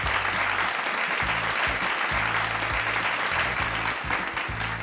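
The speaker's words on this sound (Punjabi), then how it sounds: "ਜ਼ੋਰਦਾਰ ਤਾੜੀ ਨਾਲ ਸਵਾਗਤ ਕਰਿਓ ਪਰਮਿੰਦਰ ਸਿੰਘ ਦਾ" A studio audience at a singing contest gives steady, loud applause to welcome a contestant, a dense wash of clapping that runs unbroken throughout while music plays underneath.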